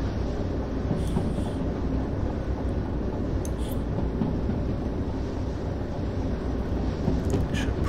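Steady, continuous rumble of a train rolling along the track in the train simulation game Derail Valley, loud and unbroken throughout, with faint high squeaks now and then.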